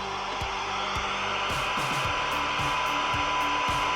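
Open-squelch hiss from a Yaesu FT5D handheld radio receiver, a steady broadband noise running unbroken at even loudness throughout, with faint periodic low clicks underneath.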